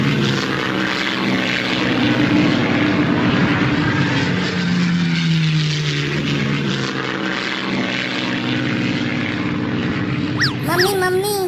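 A propeller aircraft engine drones steadily overhead in a Hindi cartoon, a loud continuous hum that holds throughout with background sound and a brief whistling tone near the end.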